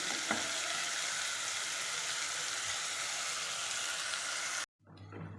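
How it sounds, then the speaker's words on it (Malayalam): Prawns frying in a pan for a homemade chemmeen biryani, a steady, even sizzle with faint stirring clicks, holding at a constant level before cutting off, then resuming more quietly. "അപ്പം നമ്മുടെ ചെമ്മീൻ ഇവിടെ നല്ലോണം ഫ്രൈ ആയി വന്നിട്ടുണ്ട്"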